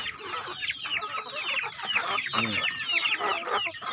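Free-range village chickens cluck busily, with repeated overlapping clucks and squawks from several birds close by over about four seconds.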